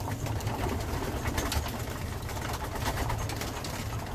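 Racing pigeons coo in a loft, steady low throaty cooing from several birds layered over a busy rustling background.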